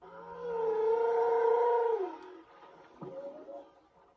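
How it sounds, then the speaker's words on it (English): A Google Nest Audio smart speaker plays a whale call: a long, wavering, moaning tone lasting about two seconds, followed by a shorter rising groan, clear and close in a quiet room. "This is a whale."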